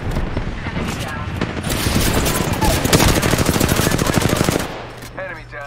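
Rapid automatic gunfire from a shooter video game rattles loudly and almost continuously for several seconds, with a voice speaking over the shooting before it cuts off into quieter game sounds.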